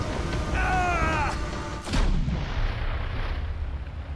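A single loud gunshot from the Call of Cthulhu game cracks out near the middle, close and booming, followed by a fading rumble, with a brief vocal sound just before it.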